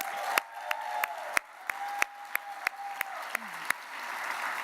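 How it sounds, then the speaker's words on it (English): A gala audience at the Rammys awards applauds the RAMW staff, soft distant clapping from a large room with a series of sharper, regular claps standing out near the microphone. "On the front line, supporting the mission is my committed staff at RAMW, and they need a round of applause."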